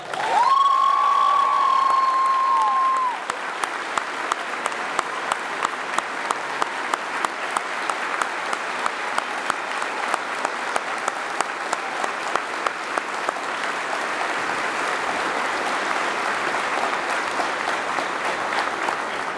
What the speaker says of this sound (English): Please give a big round of applause to Mary Burke